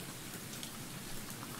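Video-game rain in Sew in Love falls as a faint, steady hiss of pouring water with no break or change.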